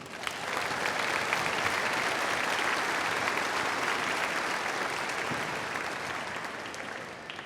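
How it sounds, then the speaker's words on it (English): Applause from a large audience at a Chadron State College commencement rises quickly and holds as a dense, steady wash of clapping for several seconds before starting to thin. "So can we give everyone a big round of applause?"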